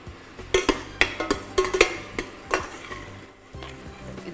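Vegetables sautéing in a pan for marinara sauce, with a quick run of repeated spatula scrapes and clinks over a low sizzle, easing toward the end.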